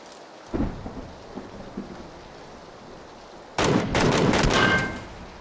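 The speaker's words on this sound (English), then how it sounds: "More shots." Gunshots ring out in PLAYERUNKNOWN'S BATTLEGROUNDS. A few separate booming reports come first, then a louder, rolling burst of fire, all with a distant, thunder-like quality.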